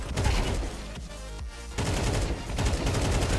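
Rapid automatic rifle fire from Counter-Strike 2 on the new Mirage map rattles in dense, loud bursts, with a brief gap before the spray resumes.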